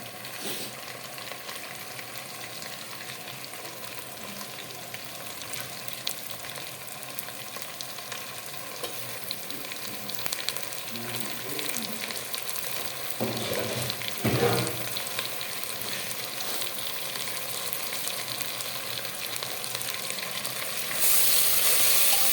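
Mutton sizzles and fries with spices in a pressure cooker as it is stirred, a steady close crackling hiss with occasional scraping and clattering of the spoon, growing slightly louder toward the end.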